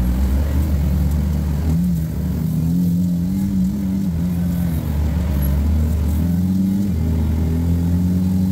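An off-road vehicle's engine roars continuously nearby on a rocky dirt trail, its pitch rising and falling as it revs, loud and steady throughout.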